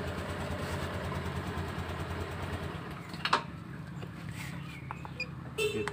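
A Honda Beat scooter engine idles steadily during RPM tuning, a continuous low mechanical hum with a faint click partway through and no talk.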